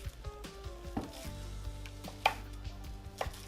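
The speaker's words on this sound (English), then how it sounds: "So you can chop your chives." Knife chopping chives on a board in a kitchen, quick quiet taps in an uneven rhythm over a steady low hum, with a sharper clack partway through.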